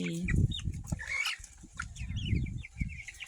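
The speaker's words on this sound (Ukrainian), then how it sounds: "Питали, що з курчатами моїми, ось отакі вони вже де маленькі підросли." Young, half-grown chickens cluck and cheep close by in a small backyard flock, with soft rustling and a few wing flaps among the busy overlapping calls.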